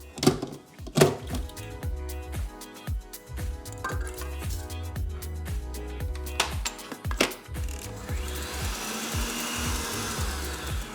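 Electric mixer beating eggs with sugar, a loud whirring drone broken by repeated knocks and thunks of beaters against the bowl, running continuously without speech.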